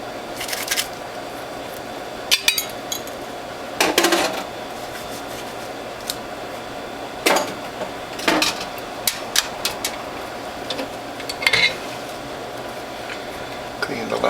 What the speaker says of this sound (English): and start pressing juice.